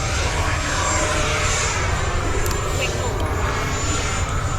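An FMS Yak-130 70mm electric ducted-fan RC jet flies overhead, giving a steady, loud whooshing roar with wind buffeting across the whole stretch and no breaks.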